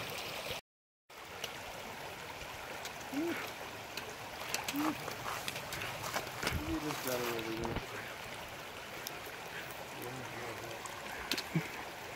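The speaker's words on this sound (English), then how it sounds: "Not much of a river, it's more of a little creek" A small mountain creek trickles and babbles steadily along the John Muir Trail, faint and constant, with brief voices and footsteps over it.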